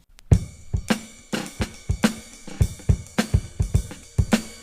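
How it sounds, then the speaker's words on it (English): A groovy drum break sampled from a vinyl record plays alone, punchy kicks and crisp snares in a tight, syncopated pattern of repeated hits over about five seconds. "So that's a pretty nice groovy drum track."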